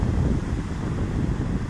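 Fairly strong southeast wind buffeting the microphone at the Sendai Shinko beach on the coast, a low, continuous blustery rumble with possible surf beneath, no voices.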